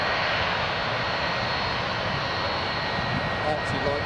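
A Norwegian jet airliner in football livery takes off at London Gatwick, its engines a loud, unbroken broadband roar that holds steady throughout.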